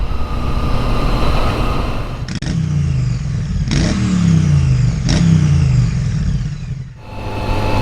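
A 2020 Honda CBR1000RR Fireblade SP engine revs hard through several rising sweeps, loud and close, each pull climbing in pitch before dropping as gears change, with steady road and wind roar underneath.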